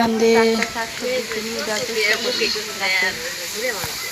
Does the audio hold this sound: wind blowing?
no